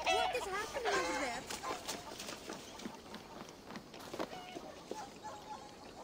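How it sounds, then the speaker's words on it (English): A rooster and hens cluck in Assassin's Creed Valhalla, with quick chirpy clucks strongest at the start and fainter calls later, set among game ambience with a voice talking over it. "Why the fuck is there a rooster"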